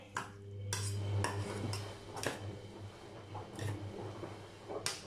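A utensil stirs and scrapes leek quiche filling in a bowl, with irregular light clinks and scraping, close and fairly quiet.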